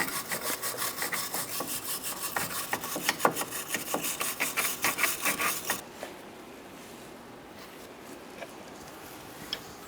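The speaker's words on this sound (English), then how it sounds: "I'm going to clean my surface so it's easier to install." A rusty shock absorber mount on a 2004-2009 Mazda 3 is scrubbed clean with a brisk, rhythmic rasping close by for about six seconds, then stops, leaving quiet room tone with a few faint knocks.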